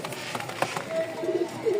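Pigeons, a pair of Rajshahi colour-matched Giribaz birds with some feathers regrowing, coo softly in a short burst of low calls, with faint human voice sounds mixed in close by.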